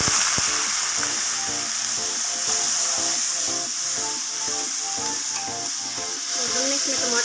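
Ginger garlic paste frying in oil with browned onions for a dry beef gosht, a close hissing sizzle with rhythmic scraping stirs throughout.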